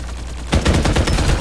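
Video game gunfire bursts in abruptly after a quiet half second: a loud, dense rattle of rapid shots that keeps going to the end, close and alone.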